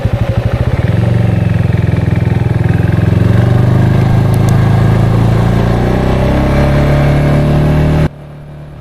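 A CFmoto 250CLC single-cylinder cruiser motorcycle runs loud and close while being ridden, its dry, pulsing engine note rising steadily for about eight seconds before cutting off abruptly.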